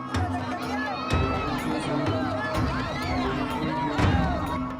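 Spectators at a Palo Cebo pole-climbing game during a barangay fiesta in Naga City shout and cheer loudly, a busy, sustained crowd roar with excited children's shrieks rising above it.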